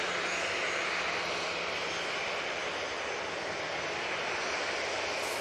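Ryanair airliner taxiing at Manchester Airport, a steady, broad engine roar that holds at an even level throughout, with no voices.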